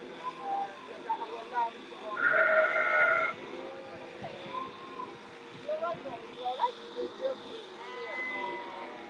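Sheep bleat at a shearing, with several loud, drawn-out calls that rise above a busy background of other animal noise and people talking nearby.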